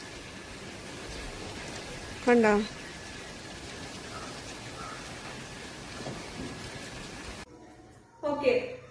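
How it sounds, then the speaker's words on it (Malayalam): Light rain falls in scattered drops, a steady soft hiss running throughout, with a voice speaking briefly twice over it. "മഴ ഇങ്ങനെ തുള്ളിയായിട്ട് വീഴണേ ഉള്ളൂ"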